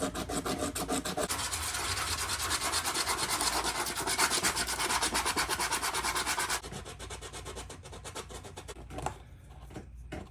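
A wooden shift knob is hand sanded through successive sandpaper grits, producing rapid rhythmic rasping strokes that are loud and close at first, then fade to softer, sparser rubbing.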